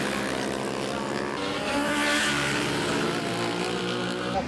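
A Yamaha R1 racing motorcycle speeds down a 200-metre straight at the Mountain Thunder street race in Methven, a loud engine roar that rises in pitch as it passes, with steady trackside ambience.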